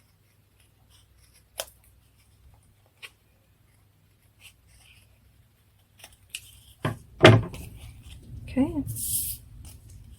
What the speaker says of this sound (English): there's a little bit there on the tail that I'm going to snip off.